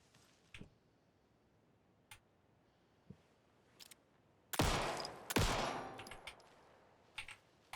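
Gunfire in the Alan Wake II video game: two loud, sharp shots close together midway, then fading echoes, with scattered faint clicks and ticks before and after.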